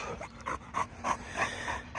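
An excited dog near cattle pants in quick, rhythmic breaths, close and fairly faint, about eight puffs in two seconds.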